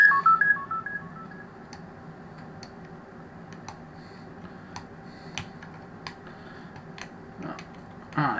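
A rotary telephone dial taken from a 746 phone is turned and released several times, producing a scattered run of light mechanical clicks and ticks at close range, with no speech.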